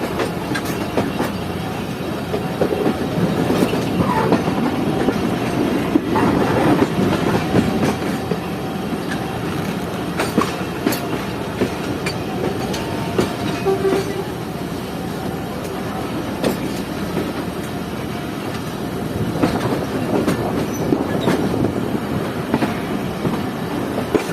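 The Jaffer Express leaves a loop line and runs onto the main line at a single-line crossing, a steady rumbling roll of wheels with faint clickety-clack and occasional squeals throughout.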